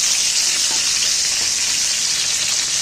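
Ground bean paste from a bean patori dish frying in a pan gives a loud, steady broadband sizzle that runs without pause for a few seconds, with no voices over it.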